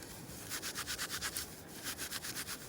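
Dry tinder is torn and roughed up by hand for a fire, making close, soft, rhythmic scratchy rubbing strokes in a quick repeating series, with a short pause midway and no voices.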